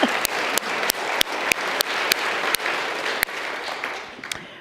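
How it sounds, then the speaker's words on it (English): An audience applauds at a fundraising announcement: a broad, steady patter of many hands with a few sharp isolated claps, tapering off near the end. "yes, let's applaud"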